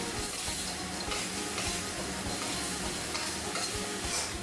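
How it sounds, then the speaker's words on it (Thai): Crisp fried catfish pieces are tossed with red curry paste in a hot pan, giving a loud, steady sizzle with continuous scraping and clattering stirs throughout. "ได้ซอสแบบนี้ก็นำปลาที่ทอดไว้นะครับ ลงไปผัด คุกเค้าจนกว่าพริกแกง จะเคลือบกับชิ้นปลาทั้งหมดครับ"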